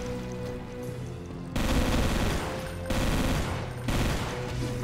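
Gunfire from a hard-recoiling gun in the video game Brutal Doom, three loud sustained bursts of rapid fire separated by short pauses over a steady droning game ambience.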